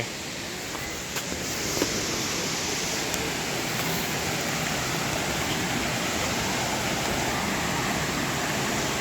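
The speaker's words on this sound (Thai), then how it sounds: "โอ้น้ำตกสวยมากอะพี่น้อง" A waterfall at Khlong Lan, dropping from a mountain, rushes in a steady, dense hiss of falling water that stays even throughout, with no talking.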